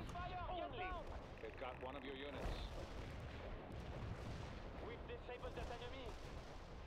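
In the World in Conflict video game, a tank-and-infantry battle rumbles with distant booms and scattered gunfire, while someone talks over the fighting.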